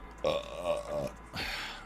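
A man burps loudly twice into a close microphone, a long rumbling belch followed after a short pause by a second, rougher one.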